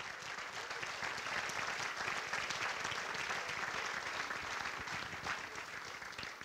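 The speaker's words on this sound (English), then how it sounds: "please, everybody give those people a big round of applause" Audience applause at an awards ceremony honouring nominees, a long even stretch of many people clapping, steady and full throughout.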